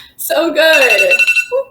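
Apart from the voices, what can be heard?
alarm clock ringing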